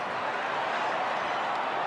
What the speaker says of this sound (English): Crowd still screaming ball.